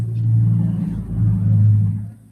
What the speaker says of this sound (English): A lorry just drove past by the sounds of it.